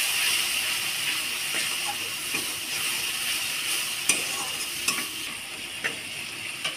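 Onion stir-fried in a pan with turmeric, salt and a pinch of sugar for a bitter gourd fritter curry gives a steady, close sizzle, broken by a few sharp spatula clicks and scrapes, with no talking.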